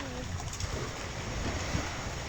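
Steady roar of strong wind buffeting a small boat, with waves splashing against the hull, loud and continuous throughout, on a rough sea crossing near Virgin Island.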